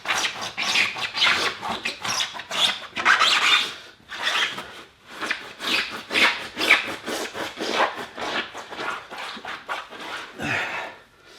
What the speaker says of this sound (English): this microfiber is pulling a hell of a lot of dirt off of the tyre